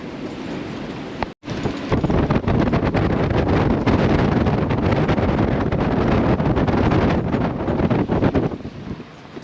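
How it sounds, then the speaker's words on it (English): Strong wind gusts buffet a sailboat riding at anchor in Puerto Escondido, a loud, continuous rushing roar broken by one brief dropout near the start, with no voices. "We're getting some big gusts coming through now."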